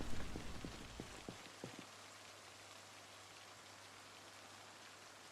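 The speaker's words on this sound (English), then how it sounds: "I think we're getting some rain." Steady rain falls in Project Zomboid, a soft, even hiss of drops that stays constant throughout, with a few brief thumps early on before the patter settles into a quiet, continuous wash.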